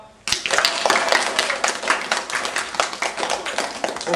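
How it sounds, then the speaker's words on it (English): Clapping from a small audience at a martial arts breaking demonstration in Caernarfon, starting abruptly after a brief quiet and continuing as a steady, close patter of claps with a few louder individual claps standing out. "Give a clap."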